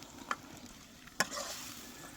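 Country chicken being stirred in a hot pan, a soft sizzle with two sharp scraping clinks of the ladle against the pan.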